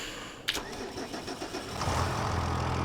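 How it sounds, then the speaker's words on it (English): A tractor engine in Farming Simulator 25 cranks with a click, then catches and settles into a rising, steady rumbling idle, close and moderately loud. "We'll jump in the tractor."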